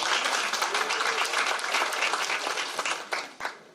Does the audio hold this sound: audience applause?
yes